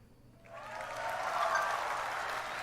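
Audience applause at BlizzCon 2019 rising from near silence into a sustained, moderately loud wash of clapping that holds steady for a couple of seconds.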